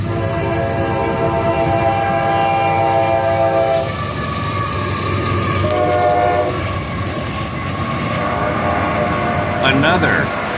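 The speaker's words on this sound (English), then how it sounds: "Another AC 44CW leads this train, also in the Y&2 paint scheme" A CSX freight train led by an AC44CW locomotive in the YN2 paint scheme rolls past, hauling northbound mostly empty autoracks. Its horn sounds in long held blasts, with a steady rumble of wheels beneath and a brief sharp squeal near the end.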